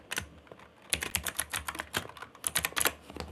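A page title being typed on a computer keyboard produces a quick run of light, close key clicks in uneven bursts, with a short pause near the middle.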